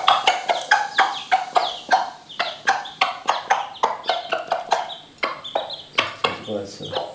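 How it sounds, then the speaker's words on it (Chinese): Young chicks peck at scattered rice grains, giving a rapid, close run of short clucks and peeps with pecking taps, steady throughout with no talk. "来，小鸡吃大米"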